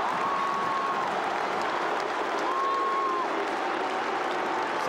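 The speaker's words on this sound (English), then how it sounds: "you can hear the crowd going Roo" A football crowd at an Adelaide versus St Kilda match sustains a long low drawn-out chant of Roo, a broad roaring wash of many voices rising and falling in drawn calls, distant and continuous.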